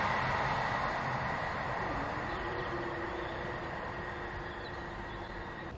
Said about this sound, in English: the signal's red and the train is approaching very slowly